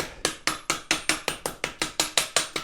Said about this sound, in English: maybe if I just start whacking this thing with a hammer, I can break all that putty out